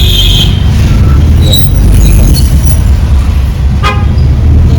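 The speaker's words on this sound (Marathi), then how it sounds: "आज संडे असल्या कारणामुळे थोडंसं ट्रॅफिक पण आहे" Busy street traffic near the market in Katta on a Sunday, with a steady engine rumble and a few short car horn toots cutting through the noise.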